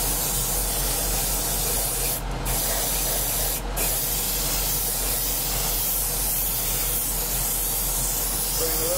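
Continuous hiss of spray paint from an airbrush or can, steady and close, with two brief sharper bursts partway through.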